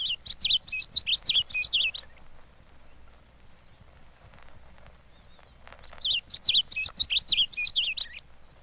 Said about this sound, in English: The bunting-like song of the gray-headed ground chat is often heard in open country.